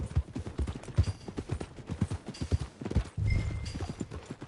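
Steady clip-clop of horse hooves trotting at a brisk, even rhythm, close and clear, with a brief snort or whinny near the end, from the video game Red Dead Redemption 2.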